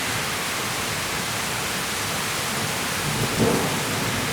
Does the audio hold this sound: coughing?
no